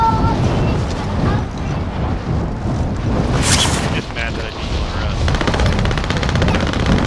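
Gunfire from a Call of Duty: Modern Warfare match, dense and continuous crackling shots with a loud burst near the middle, running steadily under ongoing talk.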